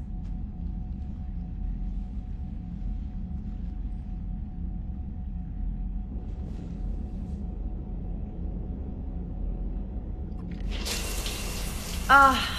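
A shower runs with a steady, even hiss of falling water, continuous and moderately close, with a brief bright burst of spray near the end.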